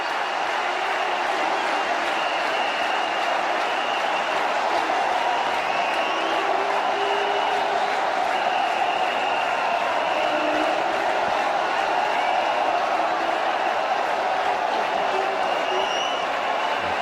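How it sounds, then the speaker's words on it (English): A big cricket crowd at the Kanpur Test between India and South Africa rumbles and swells with rising cheers in anticipation, a continuous distant roar with a commentator's voice talking over it. "The crowd already going up in anticipation."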